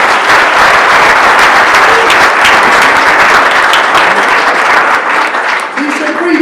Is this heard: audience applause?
yes